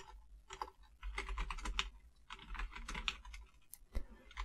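Someone types on a computer keyboard in quick, uneven bursts of close, crisp key clicks, with short pauses between runs.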